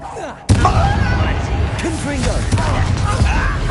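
In Hogwarts Legacy, a Confringo fire-blast spell explodes with a sudden loud burst, then a sustained rumbling roar follows. Voices and creature-like cries sound over the blast.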